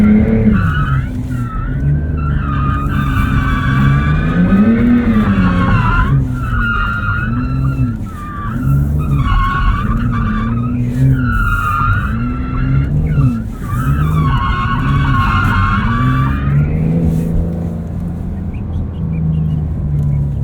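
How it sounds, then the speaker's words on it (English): A 2023 Porsche 911 Turbo S engine roars loudly and continuously, pitch rising and falling through revs and gear changes, with tire noise mixed in and no talking. "Engine's pretty good at low revs too."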